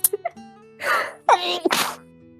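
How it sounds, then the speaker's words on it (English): A sharp, close sneeze blasts into a microphone after a few quick breaths, loud and abrupt, followed by a short gasp. "she just sneezed in the damn mic"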